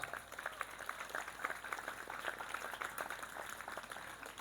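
Audience applause at a lecture in an Islamic boarding school, a faint, dense, continuous wash of many hands clapping heard from a distance, with no voice standing out.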